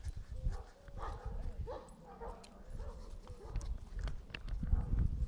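Police dog searching during handler training, with scattered yips, whimpers and footfalls over steady low rumble, moderately near and under intermittent handler talk.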